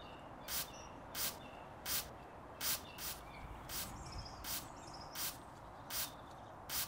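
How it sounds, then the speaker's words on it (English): Heavy Duty Cleaner sprayed onto the dirty areas of a BMW M3, heard as about ten short, evenly spaced bursts of hissing spray roughly every half second, fairly quiet against a soft background. "Spray Blast Heavy Duty Cleaner on the visibly dirty areas for extra cleaning power."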